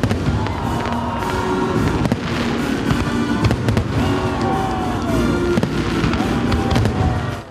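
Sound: fireworks display

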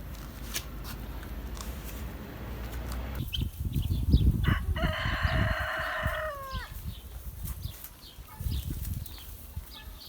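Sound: chickens, rooster crowing

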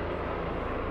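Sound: helicopter flying overhead

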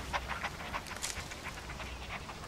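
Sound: dogs panting

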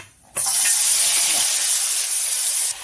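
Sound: chopped ingredients frying and sizzling in hot oil

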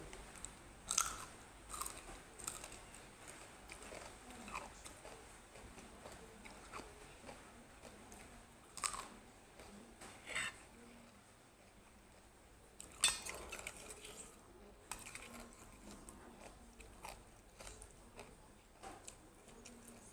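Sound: eating crunchy food, chewing

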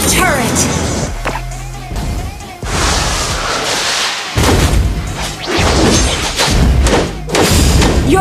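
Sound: turret destroyed explosion in the video game Mobile Legends

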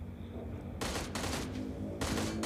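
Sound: UZI gunfire at car tires in video game PUBG Mobile

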